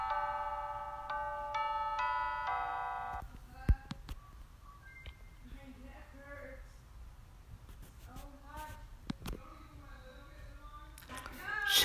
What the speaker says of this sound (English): Doorbell, basically, with a bunch of sounds.